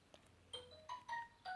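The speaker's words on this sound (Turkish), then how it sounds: "Ulan bildirim gelmesene." Short, faint phone notification chime of a few quick tonal blips, heard during a Granny horror game session.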